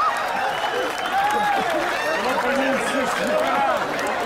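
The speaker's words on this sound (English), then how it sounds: "They clapping, they celebrating." Crowd at a running of the bulls claps and cheers in a continuous, dense wash of applause and excited voices, with shouts rising over the steady clapping throughout.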